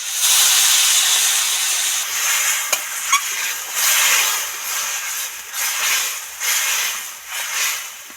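Water poured into a pan of fried banana stem hisses and steams in loud, rolling bursts. Short clinks from stirring sound in between, and no voices are heard.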